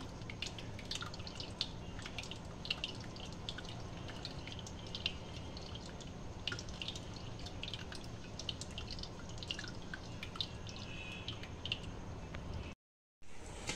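Soaked wheat extract strained through cloth for kurdai, dripping steadily into a vessel as a continuous patter of close, small drips, quiet throughout, with a brief gap near the end.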